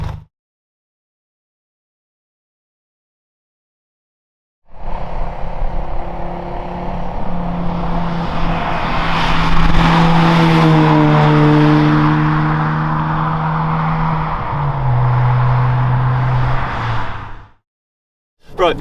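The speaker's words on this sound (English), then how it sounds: "it's a full catback exhaust, and it does sound really good" A Honda Jazz GD1 engine with a full catback exhaust idles loudly, then revs up and holds with a deep, throaty exhaust drone before cutting off; no talking.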